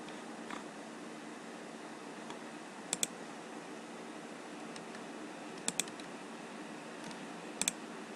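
Someone types a short command on a computer keyboard, with a few sparse clicks and keystrokes in small clusters over a steady faint background hiss.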